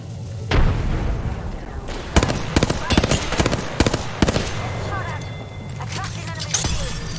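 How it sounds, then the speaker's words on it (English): Missile explosions in Apex Legends, a dense string of sharp booms and cracks over a constant rumbling game-sound bed, loud and close, with a voice talking over it. "missiles tearing through"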